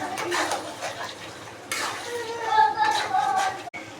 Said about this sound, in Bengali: ভালো করে নেড়ে ভালো করে মাংসগুলো কষে নিতে হবে মশলাতে।